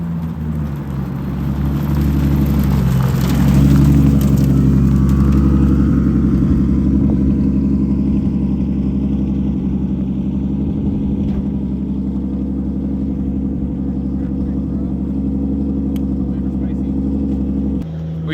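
A drift car's engine revs hard on a short outdoor run, swelling to a loud, sustained roar and then holding a steady rumble for several seconds, close and continuous.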